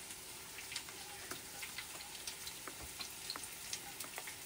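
Garlic and ginger frying in a pan for mango curry, a steady faint sizzle with scattered small pops and crackles throughout, no talking.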